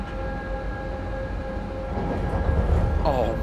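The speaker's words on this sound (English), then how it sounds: "all the sounds on this locomotive are very well done" A BR 145 electric locomotive in a train simulator game gives off a steady rumbling run with a faint tonal hum, and someone talks over it.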